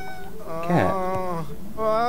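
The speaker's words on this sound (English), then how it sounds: "Cat." A pet cat in The Sims 3 meows loudly and close, a drawn-out wavering call followed by a second shorter meow.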